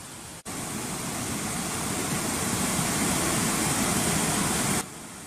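Water pours steadily over the Waterfront dam in a dense, continuous rushing roar that holds at an even, loud level before cutting off abruptly near the end.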